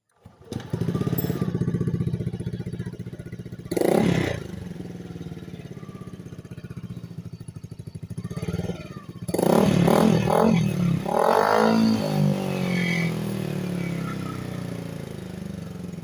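A Yamaha Aerox V2 scooter fitted with an Akrapovič exhaust pipe idles with a steady close burble, then blips and revs sharply several times, with clattering mechanical noise between throttle bursts.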